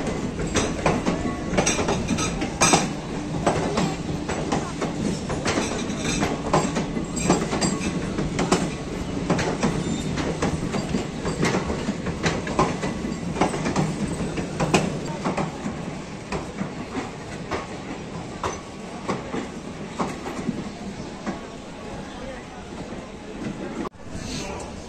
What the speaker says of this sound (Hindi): अपनी ट्रेन हो चुकी है depart Ambala cantt railway station से